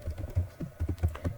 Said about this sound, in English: you can still type your comment